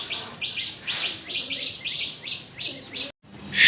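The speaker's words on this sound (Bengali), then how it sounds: "এটা হচ্ছে একটা মোসাল দমের নর, মোসাল দম, লাল মোসাল দম" Bird calls from a red Mosal dom pigeon, a male, heard as a run of repeated short, bright chirping notes in quick succession, close and fairly loud, with a brief gap near the end.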